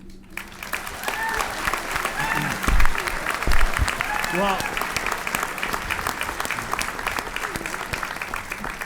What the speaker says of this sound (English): let's give a round of applause to all of our leadership candidates